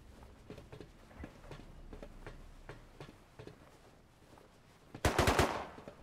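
Rapid MP5 submachine gun fire in the survival video game Rust: a steady string of quick, evenly spaced shots, then a louder, denser close burst near the end.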